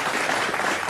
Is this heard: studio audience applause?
yes